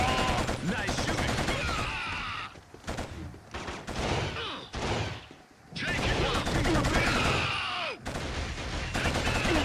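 Sustained heavy gunfire in a first-person shooter video game, loud volleys and bursts pounding almost continuously with short gaps, with shouting voices mixed in.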